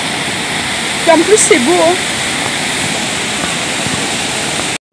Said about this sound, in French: Enfin devant les chutes.